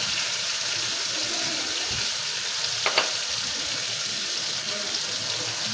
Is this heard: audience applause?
no